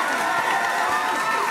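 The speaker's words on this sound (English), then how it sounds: "A big round of applause from the audience" A studio audience gives continuous applause mixed with cheering, a dense, even roar of clapping and crowd noise that holds at a steady level throughout.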